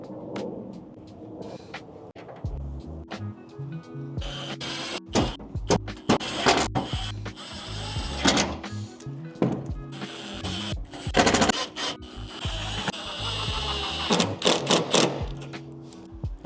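An impact driver runs bigger bolts into a SnailArmor tailgate insert on a 3rd gen Toyota Tacoma, giving loud rattling hammering bursts of several seconds each, separated by short pauses, close up and with no talk.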